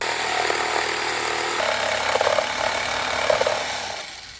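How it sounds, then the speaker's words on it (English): A jigsaw cuts sections out of wooden board for a snowman decoration, a steady buzzing power-tool whine running close and loud throughout with slight changes in pitch as the blade moves through the wood. "So I took out my jigsaw and cut those sections that we just drew."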